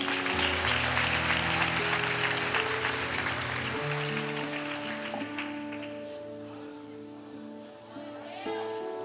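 Congregation applauding during a church service, a steady wash of clapping mixed with sustained organ or keyboard music that holds loud throughout before easing slightly.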